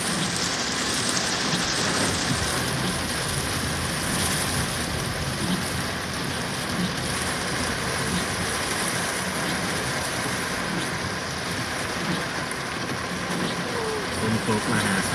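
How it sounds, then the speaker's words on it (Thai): Heavy storm rain pours down steadily in Udon Thani, a dense continuous hiss of water close by that stays loud and even throughout, with a low rumble underneath. "ฝนตกมหาศาล"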